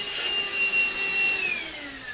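Close and steady, a Morphy Richards SuperVac 2 in 1 cordless vacuum cleaner runs with a constant motor whine and airy hiss, its pitch drifting slightly lower near the end.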